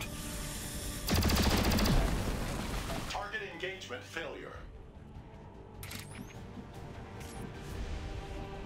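A soldier's shot rings out in XCOM 2, a loud sharp burst of gunfire followed by a decaying crash and scattered impact noise, with game sounds continuing faintly afterward.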